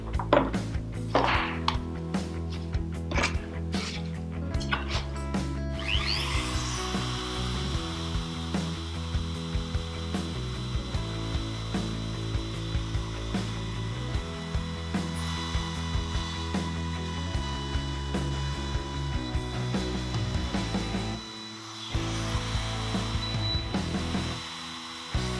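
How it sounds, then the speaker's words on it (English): A router fitted with a small combination trimmer bit cuts a 45 degree bevel into timber, giving a loud, steady high-pitched whine with rough cutting noise that runs almost continuously and dips only briefly near the end. "The next cut I'm going to try with this little combination trimmer bit is still with a 45 degree bit"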